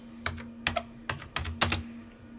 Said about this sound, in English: we will need to type planet